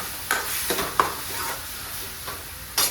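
Blended tomato simmering in a pan for pav bhaji, a low steady sizzle broken by several soft stirring scrapes and spoon taps, close by with no talk.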